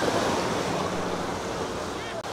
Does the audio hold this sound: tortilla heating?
no